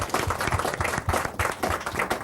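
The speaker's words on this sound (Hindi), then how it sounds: "तालियां बनती है इसमें।" At a bravery awards event an audience claps in a short, dense burst with rhythmic pulses, close and moderately loud, and no one talks over it.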